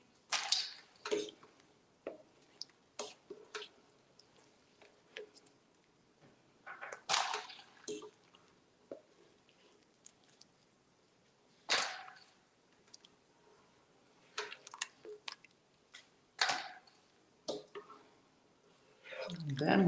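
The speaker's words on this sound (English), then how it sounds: "Now I'm going to transfer these green beans into my ice water so they can stop cooking" Blanched green beans are lifted from a pot into ice water, giving scattered wet splashes, drips and clinks at irregular intervals, fairly close and quiet, with long still pauses between them.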